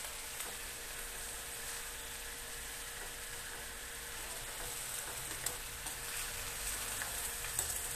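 Oil sizzles and fries steadily in a pan while miso sinigang with salmon head cooks, a constant crackling hiss with occasional small pops and no talk.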